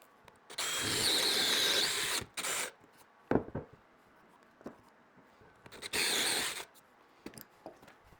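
A power drill whirs in two loud bursts boring a 1.5-inch hole into a wooden stair newel post, separated by short clunks and quiet handling noises.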